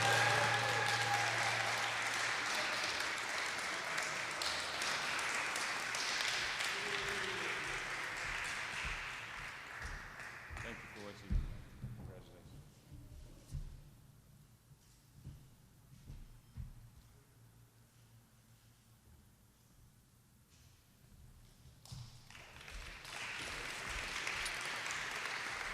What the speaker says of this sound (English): Please, everyone, give him a round of applause.